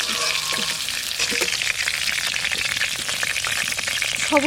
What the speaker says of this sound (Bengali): পটলটা হালকা ভেজে নিলাম